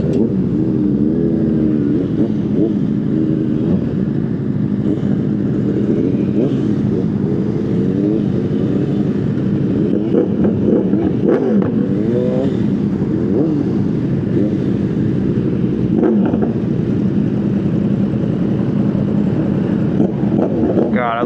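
Sport motorcycles, including a Honda CBR600RR ridden alongside liter bikes, an R1, a GSX-R1000, a ZX-6R and an Aprilia Shiver, roar at full throttle in a steady loud engine drone with rising and falling revs and wind rush throughout.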